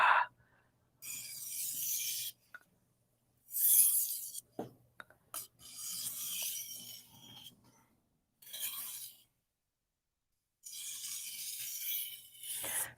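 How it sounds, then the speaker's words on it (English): Steel kitchen knife being deburred on a whetstone, producing repeated bursts of gritty rasping strokes separated by short pauses, fairly close and alone. "So you're deburring on the stone in the same direction as the kind of mini serrations you just made, right?"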